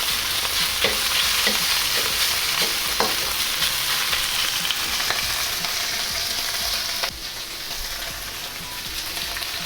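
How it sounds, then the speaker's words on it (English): Beef strips hit hot oil in a pan and are spread out, giving a loud, steady sizzle with scattered crackles and pops that runs the whole time, softening slightly toward the end. "Drop in my beef. And just spread the beef out."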